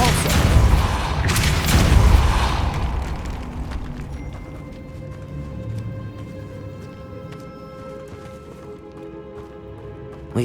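The Depulso spell fires in Hogwarts Legacy with a loud rumbling burst and rushing whoosh, then fades into shimmering, sustained ringing tones that slowly die away over several seconds.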